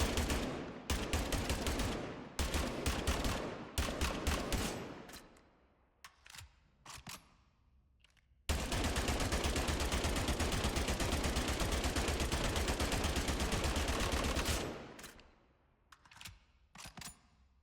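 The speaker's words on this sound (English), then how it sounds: "Next up, we got the M49 Fury. This is an LMG." An M49 Fury light machine gun fires in the shooter Spectre Divide: several short, loud bursts of rapid shots with brief pauses, then one long sustained burst lasting about six seconds, followed by fading echoes and a few scattered clicks.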